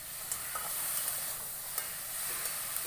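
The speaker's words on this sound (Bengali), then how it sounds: "কাঁকড়াগুলোকে অল্প সাঁতলিয়ে নিচ্ছি।" Spiced crabs are sautéed briefly in a wok, giving a steady close sizzle with scraping stirring strokes throughout and no voices.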